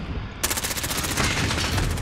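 Rapid automatic gunfire in a Call of Duty hardcore Domination match, a fast unbroken burst of sharp cracks that starts abruptly and stays loud and close for about two seconds.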